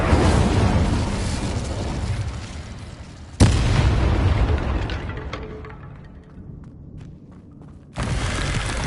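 A fiery Incendio spell blast bursts loud and sudden in the Hogwarts Legacy video game, with a second sharp boom several seconds later, each decaying into a rumbling tail.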